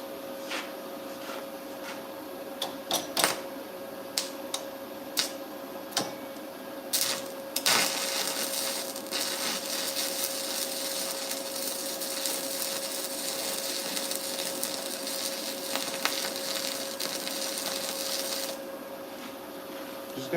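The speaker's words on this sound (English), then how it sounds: "I'll weld the inside of it." Stick welding along the inside of a tractor steering part gives a steady, close crackling hiss that runs for about ten seconds over a faint constant hum, with scattered sharper pops before it starts.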